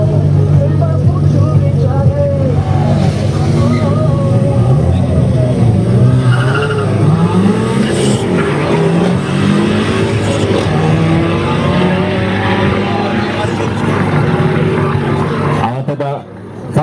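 A Škoda 120 with a turbo and an Audi RS6 drag race, with loud engines revving and climbing in pitch and tires squealing across the whole stretch. A voice talks over the noise for much of it.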